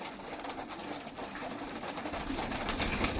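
Sirazi pigeons coo softly and steadily at close range over a faint hiss of background noise, the murmuring calls overlapping without pause.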